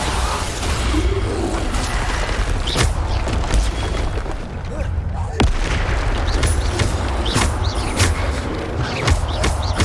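Bombarda explosion spells cast in the video game Hogwarts Legacy, with repeated booming blasts and sharp cracks over a constant loud rumble of combat.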